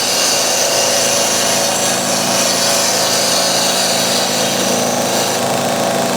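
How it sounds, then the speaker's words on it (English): Skew chisel with a slightly rounded edge cutting hard timber on a wood lathe, giving a steady, loud scraping whir with a constant machine hum underneath, continuous and close throughout. "That's a slightly rounded skew chisel. Good for this sort of job on a harder timber."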